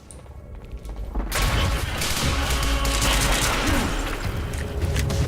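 Burst-fire pistol shots in a Remedy action video game, dense gunfire and crashing impacts filling a loud, continuous stretch after a brief quieter opening.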